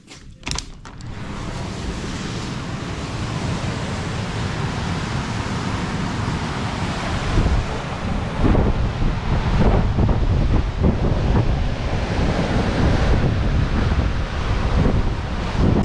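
Atlantic Ocean surf on the Moroccan coast rumbles continuously, heavily buffeted by loud wind noise on the microphone, with no voices.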